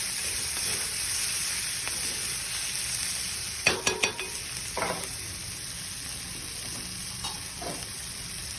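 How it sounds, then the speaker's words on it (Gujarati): Spice mixture with turmeric being stirred and sautéed in a pan: a steady hiss of frying runs throughout, broken by a few clustered scraping clinks of the spoon against the pan around the middle and near the end. "હળદર નાખો. ફરી તેને મિક્સ કરી દો. થોડી વાર સાતળ્યા બાદ"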